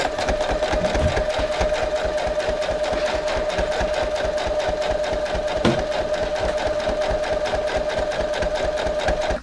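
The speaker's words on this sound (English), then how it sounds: "I'm going to go back to the machine and I'm going to do a straight line from the edges here all the way along my quilt" A sewing machine stitches a straight line along quilt binding, a steady fast mechanical whir with rapid rhythmic needle pulses, close and continuous for several seconds.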